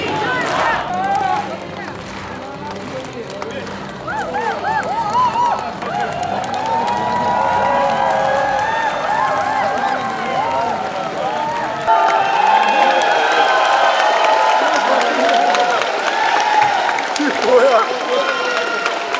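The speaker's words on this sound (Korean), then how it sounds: "큰 박수로 맞아주십시오" An audience at a talk concert in Daegu bursts into applause and cheering, loud and sustained crowd noise with shouts and whistles swelling toward the end, a voice speaking over it near the start.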